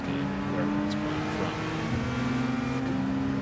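Race car engine drone in Gran Turismo 7, a steady sustained whine holding throughout with a slight pitch shift as a car goes by, with faint talk underneath.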